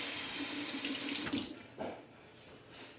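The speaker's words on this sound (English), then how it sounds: "Wash my hand off real quick." Hands being washed under a running kitchen sink tap, a steady hiss of water with splashing changes as the hands move, then the flow tapers off near the end; no talking.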